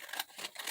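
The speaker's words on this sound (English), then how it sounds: "I'm just going to go ahead and trim down the excess of this" Scissors trim excess paper from 12x12 craft sheets in three quick, close snips at an even rhythm, with no voices.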